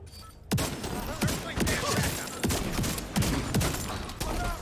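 Shotgun blasts in a video game, a series of heavy booming shots at irregular intervals over a dense, noisy background of in-game action.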